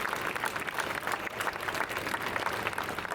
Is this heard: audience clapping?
yes